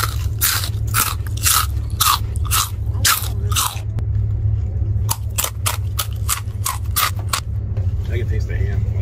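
Someone bites and chews crunchy food containing ham. About a dozen sharp crunches come close to the mic in quick bursts, with a short pause midway, over a steady low hum.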